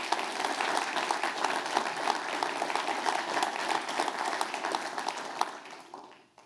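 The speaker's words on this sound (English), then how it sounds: "Please join me in giving them a round of applause for all their work." An audience at an outdoor 9/11 remembrance ceremony applauds the ground staff, a steady wash of many hands clapping at moderate distance that holds evenly, then fades out at the end.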